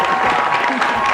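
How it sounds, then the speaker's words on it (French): Studio audience applause welcoming two guests onto a talk show, steady crowd clapping with some cheering, overlapping with a voice speaking. "sous nos applaudissements"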